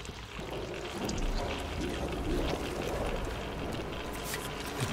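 Water drains in Metro Exodus, a low, steady gurgling rush with trickling texture running throughout, soft and continuous.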